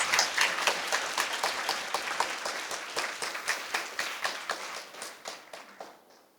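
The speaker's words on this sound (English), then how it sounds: "Please give a warming round of applause for Chris again." Audience applause at a semiconductor and national security forum in Taiwan, a steady round of crisp clapping from a moderately sized crowd that holds even and then thins out toward the end, with no talking over it.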